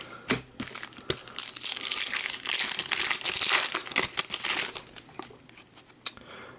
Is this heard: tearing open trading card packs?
yes